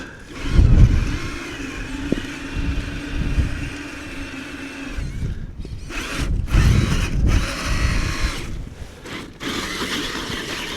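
Traxxas TRX6 RC crawler climbing in low gear without locked differentials, its electric motor whining and straining in uneven bursts, with scraping and knocks from the terrain.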